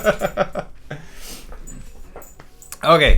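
A dog whines in a quick series of short, high whimpers, then goes quiet with faint breathing and small noises, then gives a louder, drawn-out whine at the end, close by. No one speaks over it.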